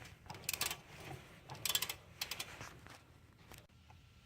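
A 16 mm socket wrench loosens a bolt while a CV axle is being replaced on a 2009 Chevy Cobalt, giving quiet bursts of rapid ratcheting clicks in several short runs, close by and faint, then tapering off.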